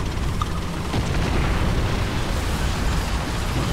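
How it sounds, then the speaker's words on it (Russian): A tank fires from a distance in War Thunder, a dull boom sitting inside a constant loud rumble of engine and battle noise. "А это вот издалека этот стреляет."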